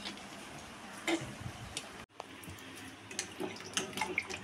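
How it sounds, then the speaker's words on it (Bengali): Pointed gourds are washed under a running tap for a sweet kheer potol recipe, with a steady splash of water and small knocks of the vegetables in the sink, close by and unbroken by talk. "ভালো করে পটলটা ধুয়ে নিচ্ছে"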